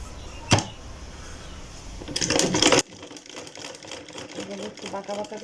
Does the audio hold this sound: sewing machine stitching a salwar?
yes